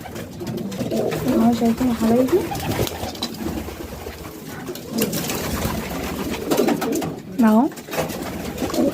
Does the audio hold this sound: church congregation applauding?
no